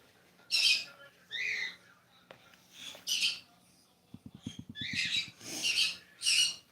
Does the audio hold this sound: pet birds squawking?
yes